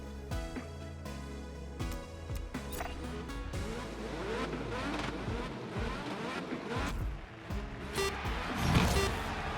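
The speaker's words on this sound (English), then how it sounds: "this engine's loud" Open-wheel race car engine roaring loud and continuous in GRID Legends, with rising and falling revs throughout, a pro open wheel series race.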